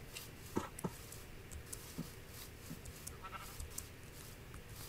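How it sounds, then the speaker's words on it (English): Sheep in the Minecraft video game bleat a few times, short scattered calls at moderate level over a steady background of game ambience, with no talking. "I see a brown sheep."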